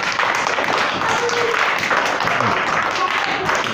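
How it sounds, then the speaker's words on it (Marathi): A classroom of students at a village school applauding a classmate, a dense steady burst of many hands clapping together at close range throughout. "हिच्यासाठी टाळ्या वाजवा."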